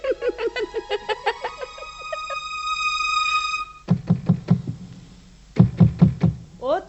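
In a Hindi TV drama, someone knocks on a door in two quick bursts of rapid raps. An earlier stretch has tonal sounds and brief chuckling.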